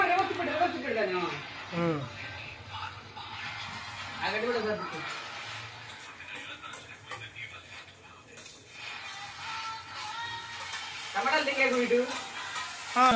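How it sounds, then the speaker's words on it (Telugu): Onions deep-fry for chicken curry in a pan, sizzling steadily while a utensil stirs and scrapes, with people talking throughout. "ఆనియన్స్ డీప్ ఫ్రై చేసుకోవాలి. ఆనియన్స్ ఓకేనా? ఓకే. ఒక రౌండ్ కలుపుకోవాలి."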